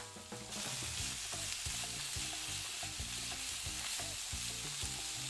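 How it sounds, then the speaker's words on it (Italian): Churro dough fries in oil heated to 180 degrees, giving a continuous bubbling sizzle with rapid crackling pops and occasional stirring clicks, steady and close, with no voices. "L'olio è caldo, 180 gradi, iniziamo a friggere."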